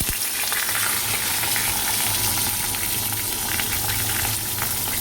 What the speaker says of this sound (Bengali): ওই জন্য এই পমফ্রেট মাছ 3টে ভাজবো।